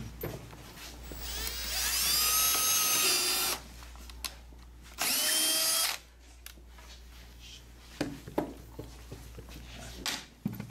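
A power drill driving screws whirs in two bursts, a long run then a shorter one, with clattering tool and handling noises between them.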